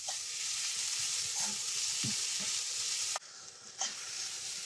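Onions fry in a pan in a home kitchen with sambar cooking nearby, a steady close sizzle with occasional stirring scrapes and clinks, and a brief dip in the hiss partway through.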